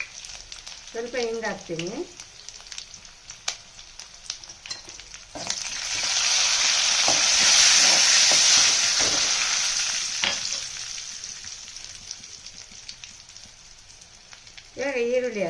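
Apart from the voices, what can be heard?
cumin, curry leaves and crushed garlic frying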